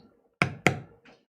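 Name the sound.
mallet striking bevel stamp, tooling leather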